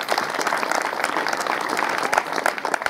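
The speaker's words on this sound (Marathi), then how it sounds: "अशा उपक्रम उमद्या तरुणांसाठी टाळ्या झाल्याच पाहिजे." A crowd at a village public event gives sustained, dense applause for young organisers, loud and continuous with many hands clapping together.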